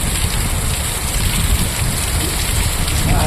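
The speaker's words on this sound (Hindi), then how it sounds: "आमर आज वर्षा होनी" Steady rain falling on a surface, a dense even patter that stays loud and close throughout with no voices.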